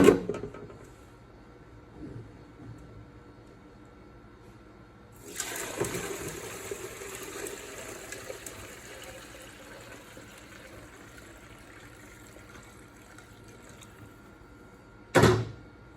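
Liquid for brown stock runs steadily into a 6-quart container for about ten seconds, a moderate gushing pour that is bracketed by a soft knock at the start and a louder clunk at the end.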